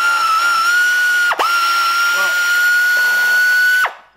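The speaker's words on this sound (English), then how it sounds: "So I got some of my air tools out. We're gonna remove this." An air tool whirs steadily at high pitch while it removes bolts on a Ducati Panigale 959 in a garage, broken by a brief drop and restart midway before spinning down at the end.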